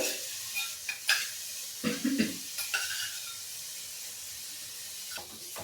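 Pumpkin jaggery halwa with a spoonful of khoa being stirred in a pan, soft scraping strokes and light sizzling in a few short bursts, fairly quiet and close, followed by a faint steady hiss.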